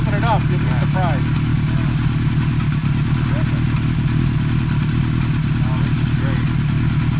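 A 1980 Kawasaki KZ650 motorcycle engine idles loudly nearby with a steady, throbbing rumble that never lets up, while people chat over it.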